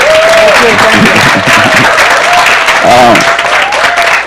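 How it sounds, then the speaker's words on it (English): Steady applause from a crowd at a Vacation Bible School day for a police sergeant fills the whole stretch, with a voice talking over the clapping. "give him a round of applause for me"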